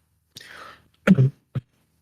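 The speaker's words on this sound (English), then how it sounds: "sorry, bit of a cough." Short cough-like bursts from a man during a football podcast: a brief throaty sound, then a stronger double burst and one quick final cough, close to the microphone.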